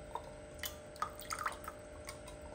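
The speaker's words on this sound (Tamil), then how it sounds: "இப்போ இதுக்குள்ளே இளநீ விழுந்துட்டுருக்கு." Tender coconut water drips and trickles into a container, with a few distinct close drops and light splashing over a quiet background and no talking.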